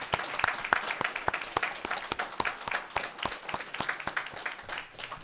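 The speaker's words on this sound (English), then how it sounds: "Please give them a round of applause" A small audience claps for the speakers after a debate, the individual hand claps distinct and fairly sparse, a moderate steady patter with no voices over it.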